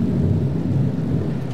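Thunder rolls as a loud, continuous low rumble ahead of rain, filling the short stretch without voices.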